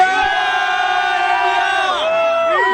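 A crowd at an event raises a cheer for India, a loud sustained collective shout with a held tonal quality, slightly shifting in pitch near the end.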